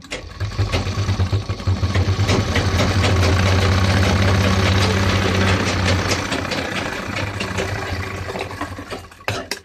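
A sewing machine stitches trousers with a loud, continuous mechanical whir and rapid rattling of the needle, swelling and easing over several seconds before stopping.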